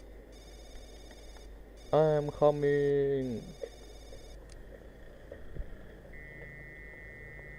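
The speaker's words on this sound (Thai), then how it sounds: "แล้วก็มีเสียงการต่ออินเทอร์เน็ตด้วยโทรศัพท์ บ้าน อีกแล้วนะ" Dial-up modem tones from a home telephone line in a video game: a loud burst of warbling, sweeping harmonic tones followed by steady beeping, with a voice speaking briefly before it and faint game sounds around it.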